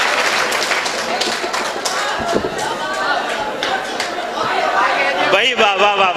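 Audience clapping at a mushaira poetry gathering, a steady dense patter of applause mixed with crowd chatter and a voice near the end.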